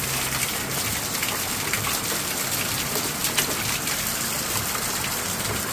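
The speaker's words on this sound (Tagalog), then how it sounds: "Rain eh." Heavy rain pours down during a storm in the Philippines, a dense, steady hiss of drops and gushing water with no voices.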